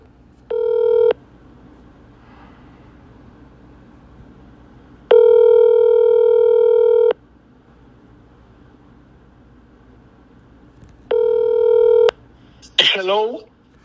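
Three loud, steady keypad tones from a telephone menu ring out in a slow, evenly spaced sequence, with quiet line hiss between them. A brief voice follows right at the end.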